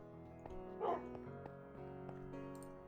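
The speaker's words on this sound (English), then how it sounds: "Good dog. Good dog, Milo." A tamed dog in the Minecraft video game giving a short yip or bark, faint and brief, over steady game background music.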